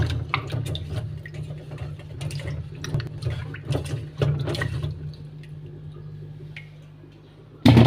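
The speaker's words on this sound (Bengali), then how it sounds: "এই তো আমি এখন পরিষ্কার করে ধুয়ে নিব।" Running water from a tap splashing steadily while food is rinsed clean, mixed with intermittent clatters and knocks of handling, then a sudden louder gush at the end.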